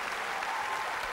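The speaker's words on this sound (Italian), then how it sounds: "Noto con piacere che i signori uomini applaudono" A studio audience at a Neapolitan song show applauds after a performance, a thick, steady burst of clapping from many hands, loud and close with no voices over it.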